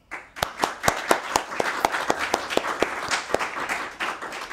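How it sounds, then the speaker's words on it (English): Scattered applause from a modest audience at a startup pitch showcase, distinct individual claps in a quick uneven rhythm, fairly close and moderately loud, fading toward the end. "So please give yourselves a big round of applause."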